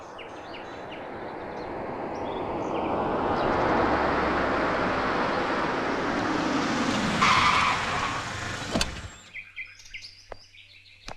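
A car arrives with tires skidding and squealing loudly on the road, engine roar building then cutting off, followed by a door thud and small clicks, with birds chirping faintly in the background.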